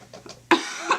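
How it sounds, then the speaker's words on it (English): A person coughs once, a loud, harsh burst partway through, with quieter throat noises before it. The cough is close by and heard alone, with no talking. "you're going to have to forgive my coughing."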